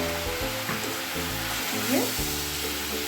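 Mixed vegetables for a Bengali niramish panch-mishali curry, seasoned with salt and turmeric, sizzle steadily in a pan while a spatula stirs and scrapes them in a few uneven strokes, close and moderately loud with no talk.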